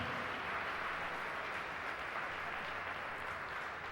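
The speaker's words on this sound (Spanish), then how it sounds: "Dele un fuerte aplauso a ese Señor." A church congregation claps in a steady wash of applause throughout, moderately distant and even in level, with no voices standing out.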